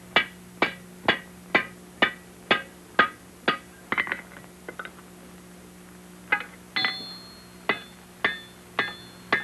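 Iron being hammered while a rifle barrel is forge welded: sharp, ringing blows fall in a steady rhythm, pause briefly, then resume, loud and close with no talking.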